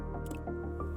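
Sticky fir resin squished and drawn from a blister in the bark, giving short wet squelching and dripping sounds over about a second, close and soft.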